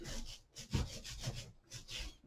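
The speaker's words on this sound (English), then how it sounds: "I'm now going to roll that out to get the right consistency" An ink roller working linoprinting ink across a slab, giving a close, sticky rubbing and rasping texture in repeated back-and-forth passes.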